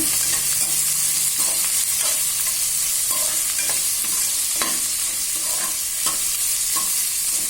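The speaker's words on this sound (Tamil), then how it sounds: "ஹை ஃப்ளேமில் வைக்காமல் ஸ்லோ ஃப்ளேம்லேயே வதக்குங்க" Onions sautéing in a pan over a slow flame for chicken biryani, a soft continuous sizzle with scattered spoon stirs and scrapes against the pan, close and steady with no voices.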